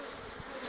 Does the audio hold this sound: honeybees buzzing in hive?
yes